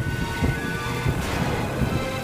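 Heavy rain pours steadily at night, with a dense roar and low rumbles of thunder on a village road. The downpour is loud and continuous throughout.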